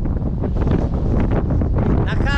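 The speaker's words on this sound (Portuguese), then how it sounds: "só que o ventinho tá forte." Strong wind gusts buffet the microphone by the Atlantic shore in Camarones, Argentina, producing a constant loud, rumbling roar with brief dips.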